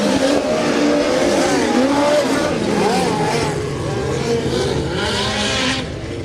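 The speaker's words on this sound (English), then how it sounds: "if you're wondering why the car noise is so overbearing, we are not in a booth" Race cars roar loudly around a dirt track at a USAC midget event, engines revving and droning continuously up close, with a commentator talking over the din.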